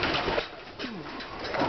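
Pigeons coo at a bird feeder, soft low burbling calls under steady outdoor hiss and rustle.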